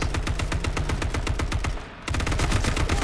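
Rapid automatic gunfire in the H1Z1 battle royale video game, loud and continuous bursts with a brief pause midway before firing resumes, close and without talk.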